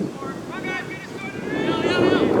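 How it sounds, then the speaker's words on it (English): Wind gusts across a high school soccer field during a game, rumbling and buffeting steadily, with faint voices and whistle-like tones mixed in. "There's a wind blowing from our left to right now."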